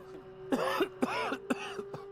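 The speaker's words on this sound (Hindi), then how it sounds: "पर आपको तो खांसी हो रही है" A man coughs in a quick series of four or five harsh, throaty bursts, close and fairly quiet, with a faint steady hum behind.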